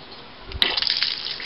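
Pond water starts flowing out through a siphon hose: after a quiet moment, a sudden gush of splashing, bubbling liquid begins and keeps pouring steadily, close by.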